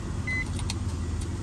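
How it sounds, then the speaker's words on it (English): An Infiniti FX45 with a crankshaft position sensor problem turns over slowly, a low mechanical churn with a brief faint chirp, close and steady, no one talking. "Let me try it again, see if it's a long extended crank."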